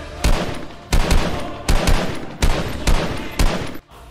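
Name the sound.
gunshots from a gun fired in an audio drama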